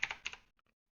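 A short run of keystrokes as a password is typed on a computer keyboard: a few quick, close clicks that fade into a couple of faint taps.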